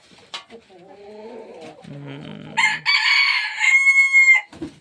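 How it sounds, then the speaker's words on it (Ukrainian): Bantam roosters crow nearby on a farm, one shrill call following another, with a low cooing bird sound underneath before the loud, strained crows ring out. "Ці півники, бентамки так кукурікають часто"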